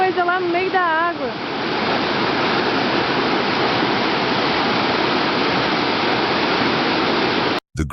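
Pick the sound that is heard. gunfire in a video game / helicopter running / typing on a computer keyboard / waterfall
waterfall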